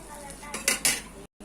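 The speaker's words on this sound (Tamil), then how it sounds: "ஸோ அழகா திருப்பி போட்டாச்சு." Food being flipped over in a pan on the stove, heard as a quick cluster of metallic clinks and scrapes from a utensil against the cookware, close up, quiet and brief, with no voices.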